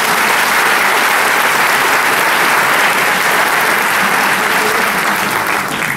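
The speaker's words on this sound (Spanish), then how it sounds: "Un fuerte voto de aplausos, por favor." Sustained applause from a large audience at a university tuna music performance, loud and steady throughout, a dense wash of clapping with no pauses.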